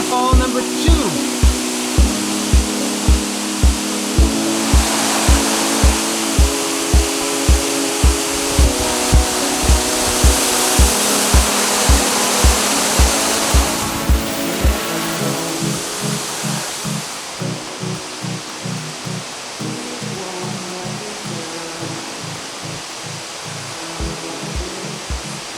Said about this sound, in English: Our first waterfall.